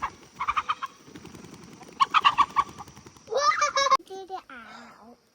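Backyard chickens in a run on a 20-acre homestead make a series of close, loud clucks and squawks, with a voice speaking among them.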